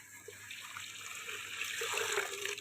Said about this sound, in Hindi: अब हम इसमें ऐड करेंगे ठंडा पानी रंग निकालने के लिए। आधा लीटर पानी ऐड कर रहे हैं जी।